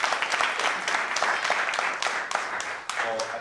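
Audience applause for Comrade Vijay at a public lecture on African liberation and anti-fascism, a dense, steady wash of many hands clapping close by, sustained throughout without a break.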